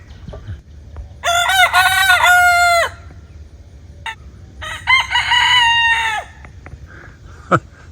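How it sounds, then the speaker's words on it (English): Two roosters crowing one after the other, each a loud, drawn-out cock-a-doodle-doo nearby, with a short pause between them and faint clucking around. "It's a brotherly crow off."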